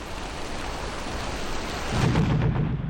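Torrential rain pours over a muddy Okinawa battlefield during the Second World War, a dense continuous hiss joined by a deep rolling thunder rumble that swells near the end.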